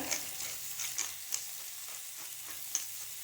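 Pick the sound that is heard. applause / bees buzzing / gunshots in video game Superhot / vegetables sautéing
vegetables sautéing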